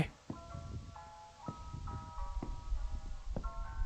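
Faint, tinkly melodic tune from a dreamcore horror walking video game, with bright bell-like notes playing over soft background noise and a murmuring voice.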